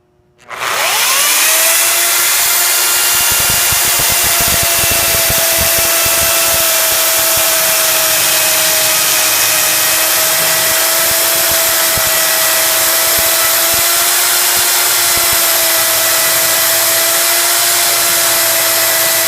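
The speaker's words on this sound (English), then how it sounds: "we're going to cut this notch so that this rafter can rest on top of a structural ridge" A portable chainsaw cutting a notch into a timber rafter for post-and-beam framing starts up at close range, then runs loud and steady for nearly twenty seconds with a high, sustained whine.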